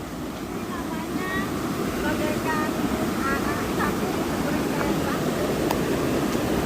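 A stream flows steadily past a campground in Ciwidey, Bandung, its broad, even rush of water filling the scene, close and constant, with faint higher tones drifting over the top.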